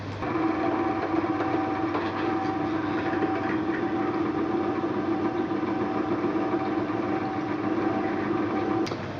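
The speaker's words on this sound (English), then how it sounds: "drill and tap these holes." A drill or tapping machine runs steadily while drilling and tapping holes in a DIY lathe tool holder, a constant motor hum with a mechanical drone that stays even throughout, close and loud, no talk.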